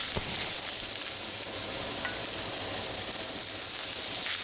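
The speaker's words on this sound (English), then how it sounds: "Cook this for just a few minutes until the onions are soft." Ground beef and chopped onion sizzle steadily in a cast iron skillet, a dense, continuous frying hiss with a few brief clicks of stirring, close and fairly loud throughout.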